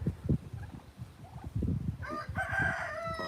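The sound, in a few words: cockerels crowing in a pen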